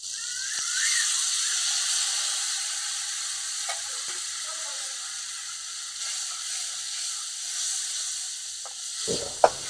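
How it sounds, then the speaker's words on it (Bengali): Spice paste of chili, cumin and coriander powder with a little water sautéing in a pan, giving a soft, steady sizzle and hiss with faint scraping stir sounds and a small clatter near the end. "এবার মশলাটাকে আমি সামান্য কষিয়ে নেবো"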